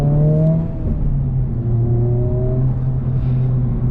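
A Honda Civic Type R engine revs loudly and close, its pitch climbing steadily through the range as the car accelerates, with a continuous droning hum and no talk over it.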